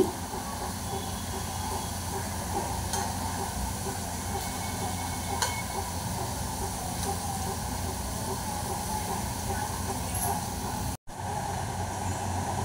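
Raw banana slices fry in a pan until golden on both sides, giving a steady, close broadband sizzle and hiss that runs almost unbroken, with one brief dropout near the end.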